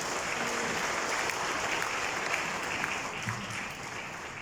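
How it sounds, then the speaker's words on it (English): Conference audience at the Mauritius Bar Association gathering applauds its panelists, a sustained, moderately loud round of clapping that holds steady and softens a little toward the close, with no talk over it. "I invite you all to give a big round of applause to our panelists."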